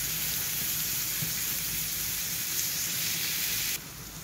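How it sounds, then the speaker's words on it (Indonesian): Shallots and garlic sizzle steadily in a hot pan, a continuous close frying hiss that holds at even loudness before easing slightly near the end. "kemudian kita tumis-tumis sampai dia layu dan harum baunya"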